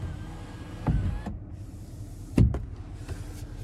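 The power sliding roof of a 2024 GMC Sierra 2500 HD AT4X AEV pickup moves with a quiet electric motor whir inside the cab, with two sharper clunks, one near the start and one toward the end.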